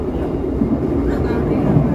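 Steady low rumble inside a Kahuripan economy-class (K3) passenger carriage of the Indonesian train from Blitar to Kiaracondong, Bandung, a continuous close hum and rattle with faint voices in the background.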